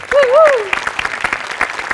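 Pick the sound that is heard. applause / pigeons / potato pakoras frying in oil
applause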